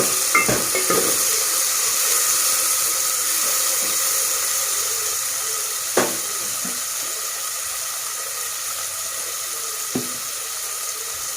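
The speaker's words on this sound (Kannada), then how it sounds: "ಚೆನ್ನಾಗಿ ಮಿಕ್ಸ್ ಮಾಡ್ಕೊಳ್ಳಿ" Tomatoes being stirred in a cooking pan with a spoon while preparing vegetable sambar, a soft steady sizzle with a few scraping knocks against the pan, no voices.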